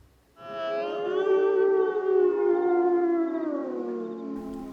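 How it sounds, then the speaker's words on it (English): A long, sustained wolf or dog howl rises from silence and holds for about four seconds with a wavering pitch, then slides slowly downward. It is loud and close, with no other sound around it. "the last sound you hear just might be the howling"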